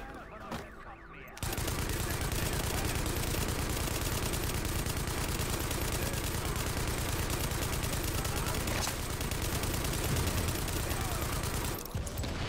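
After a brief quiet moment, sustained rapid automatic gunfire erupts in the video game Tom Clancy's The Division and continues nearly nonstop, dense and loud, before cutting off at the end.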